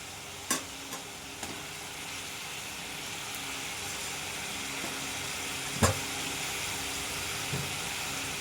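Fried potato and cauliflower cooking in sizzling masala in a pan, a steady close hiss of frying with a few sharp clinks of a utensil against the pan, no voices.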